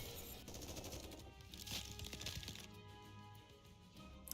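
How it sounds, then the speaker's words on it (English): Gunfire crackles outside in Goddess of Victory: NIKKE as rapid, muffled bursts of shots that sound somewhat distant and faint, layered under a soft background game score. "They're shooting."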